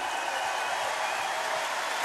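Dense applause from a large arena audience at a 25th-anniversary concert at the Accor Arena, a continuous even wash of clapping filling the whole stretch.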